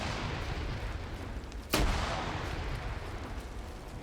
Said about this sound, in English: Grenades being thrown down the hill.